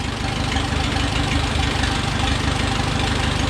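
A 1966 classic car engine, freshly rebuilt after cylinder head work, idles steadily with a low, even rumble and a faint rhythmic tick, close by and continuous throughout.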